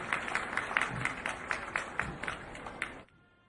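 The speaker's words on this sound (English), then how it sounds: "Ladies and gentlemen, a big round of applause for the 16th President of the Republic of the Philippines, Rodrigo Roa Duterte." A crowd applauds President Rodrigo Roa Duterte at a military change-of-command ceremony, with dense, loud clapping in a steady rhythm that stops abruptly near the end.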